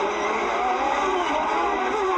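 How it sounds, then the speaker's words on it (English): IndyCar race cars from the 1995 season scream down a long straightaway, a loud, sustained high-pitched engine wail that stays steady and close throughout. "he's got one more major passing opportunity is going to come at the end of this long straightaway"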